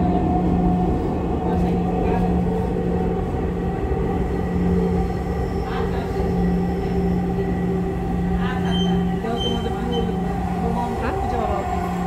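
A metro rail train in Dhaka riding between stations, heard from inside the car as a steady loud rumble with a faint tonal hum and occasional light rattles, while people talk over it.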